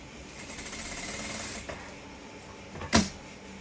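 Sewing machine stitching a large denim bag, a quiet rapid stitching rattle that fades out midway, followed by a single sharp clack near the end, no talk.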